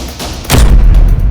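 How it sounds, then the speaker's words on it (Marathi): A single loud, deep blast bursts out after a brief murmur, then a dense rumbling roar lingers, like gunfire heard up close. "सलमानच्या घरावर गोळीबार"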